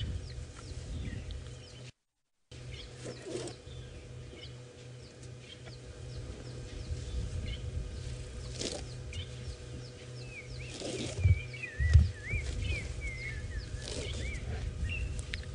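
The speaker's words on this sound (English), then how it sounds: "that bird in the background that sounds like it's whistling almost, like a wolf whistle. That's a black-crowned chagra" Faint whistled calls of a black-crowned tchagra rise and fall in the background over low rumbling and rustling on a safari drive, with a few nearer thumps and bumps.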